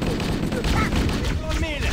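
Dense bursts of gunfire during a Covenant attack aboard the Pillar of Autumn in the Halo video game, loud and sustained, with shouted voices mixed in among the shots.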